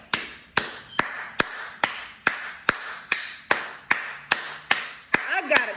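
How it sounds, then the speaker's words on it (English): A woman claps her own hands for herself, about a dozen sharp, evenly spaced single claps close to the microphone, with a brief bit of her voice near the end. "I just have to give myself a round of applause."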